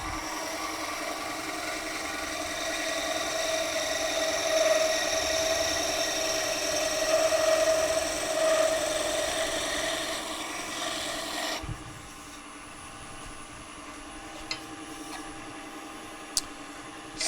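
Scroll saw cutting a spiral groove into a tapered wooden magic wand: a steady buzzing, rasping drone that runs continuously for about eleven seconds, then cuts off, leaving only a quiet hum and a few faint clicks.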